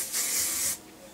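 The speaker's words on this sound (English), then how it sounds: "You can spray a little bit of spray on top" Hairspray misted over styled hair in one short, close hiss lasting well under a second, with no talking.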